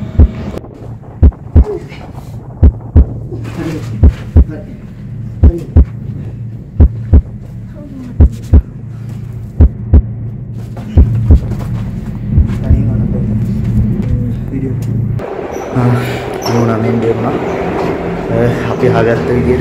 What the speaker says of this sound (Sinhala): ඒ ට්‍රේන් එකක් එනවා නේද?